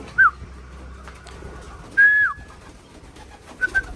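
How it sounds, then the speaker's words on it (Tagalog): Young racing pigeons are heard close by with a few short, whistly coos or calls, one near the start, a longer one midway and a faint pair at the end, over quiet background noise. "Ito may dalawang inakay mga kalapatids."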